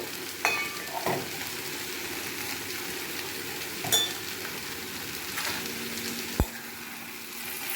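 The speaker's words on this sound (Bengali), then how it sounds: "নেড়ে চেড়ে" An ash gourd stir-fry with bori, coriander leaves and roasted spice powder sizzles steadily in a pan, broken by a few sharp scrapes and knocks of a stirring utensil, with no voices.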